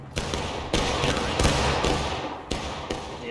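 Musket volleys crack in the video game War of Rights, several sharp broadband blasts spaced irregularly across a few seconds, loud and close with a rumbling tail after each shot.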